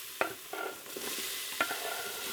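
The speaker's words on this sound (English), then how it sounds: "we're going to add in 1 diced onion" Diced onion sautéing in hot oil in an Instant Pot, giving a steady soft sizzle punctuated by a few sharp scraping stirs.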